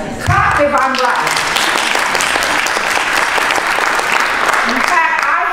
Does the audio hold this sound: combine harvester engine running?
no